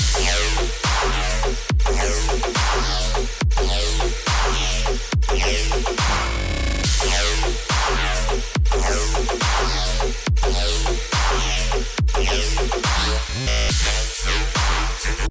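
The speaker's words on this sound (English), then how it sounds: "But I also layered my square 4 bass over it," A dense, buzzy square-wave synth bass pitching down, layered over pounding electronic drums, looping steadily with a brief filtered break midway; loud and continuous.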